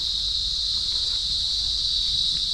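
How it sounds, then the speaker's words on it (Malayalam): Cicadas in trees near Nandi Hills make a loud, continuous, high-pitched shrill drone that holds steady throughout, with faint low rumble underneath and no voices. "ഇഷ്ടംപോലെ ചീവീട് നല്ല ഒച്ച ഉണ്ടാക്കുന്നുണ്ട്."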